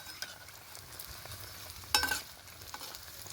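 Layered vegetarian potato patties, four at a time, fry in shallow oil with a soft, steady sizzle and crackle, broken by one louder spattering burst midway as a patty is handled or turned.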